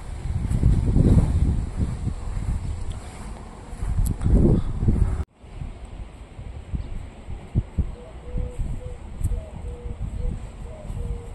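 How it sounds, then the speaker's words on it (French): Gusty wind buffets the microphone with a low rumbling roar, easing after a few seconds into a steadier breezy hiss outdoors. "le vent s'est levé"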